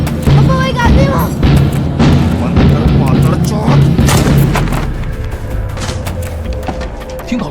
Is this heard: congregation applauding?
no